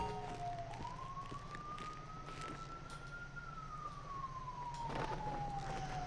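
Emergency vehicle siren in the video game GTA 5, a steady wailing tone rising and slowly falling over a constant engine and road rumble, fairly loud and continuous throughout.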